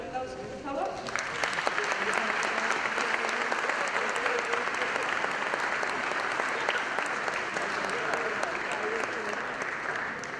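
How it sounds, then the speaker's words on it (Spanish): A university lecture audience breaks into loud, sustained applause lasting about ten seconds, a dense steady wash of clapping hands after a brief moment of talk. "un fuerte aplauso, por favor"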